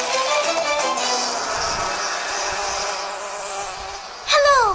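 Cartoon bees buzz in a dense, loud insect drone that holds steady and wavers slightly. A swooping whistle-like effect rises near the end, and there is no talking.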